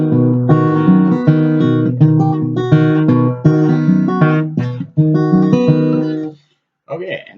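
Acoustic guitar playing blues chords with an alternating bass line, a steady strummed pattern of several bars ending in a brief pause, close and clear with no talking.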